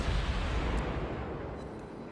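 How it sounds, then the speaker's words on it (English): Warship cannons fire in the World of Warships video game, a heavy low rumbling boom that rolls on and slowly fades, loud and close, with no speech. "Now I got way more of my cannons hitting him."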